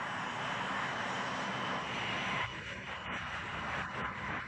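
A Fairchild Republic A-10 Thunderbolt II jet aircraft flies past with a steady broadband engine roar that dips and shifts midway, continuous and fairly close.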